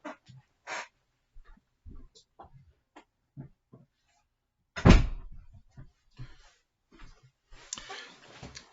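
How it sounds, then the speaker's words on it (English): A door swings shut with a single solid thud near the middle, loud and close, among scattered indoor bumps and rustles, with some handling noise toward the end. "Just got to shut the door."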